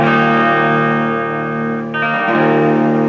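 A Wang Mini 5 amplifier carries an electric guitar on its treble pickup with a bright, trebly tone, a sustained chord followed by a fresh strum.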